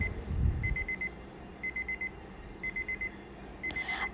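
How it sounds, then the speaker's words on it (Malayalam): A small clock fitted to a DIY light-up bottle sounds its alarm in repeated bursts of four high, thin electronic beeps, faint and close, with brief pauses between groups. "അലാറം കൂടി സെറ്റ് ചെയ്തിട്ട് ഇതിൻ്റെ സൗണ്ട് ഞാൻ കേൾപ്പിച്ചു തരാം കേട്ടോ"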